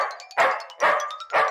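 In an animated Chacha Chaudhary cartoon, a small dog chasing a bigger dog gives three sharp, evenly spaced barks, loud and close, each with a short yelping tail.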